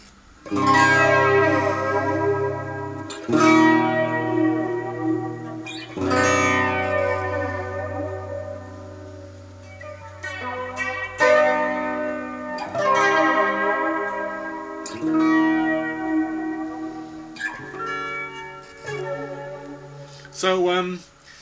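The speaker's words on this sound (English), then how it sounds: "with the reverb in and with a flanger and guitar on a bridge humbucker" Sustained electric guitar chords on a bridge humbucker wash out with swirling flanger and long reverb tails, one chord after another in a slow sequence.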